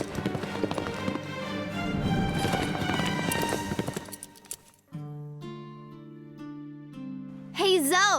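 Horse hooves clip-clop steadily during a riding lesson in an animated horse cartoon, rhythmic and fairly close, then give way to sustained musical tones.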